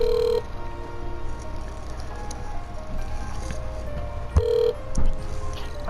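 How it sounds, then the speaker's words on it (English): A telephone call is placed, with short steady tones and a ring signal sounding over a hum of background noise, with a couple of sharp clicks partway through. "let's get him on the phone"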